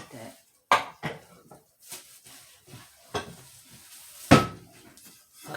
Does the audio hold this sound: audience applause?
no